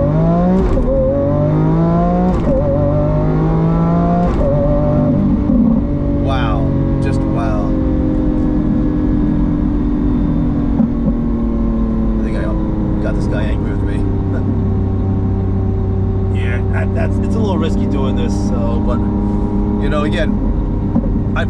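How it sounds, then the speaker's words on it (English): Lamborghini Aventador S engine under hard acceleration from a launch, loud rising revs through gear shifts with a deep roar throughout, heard from inside the car with a voice over it. "I want to go and try to do a launch now."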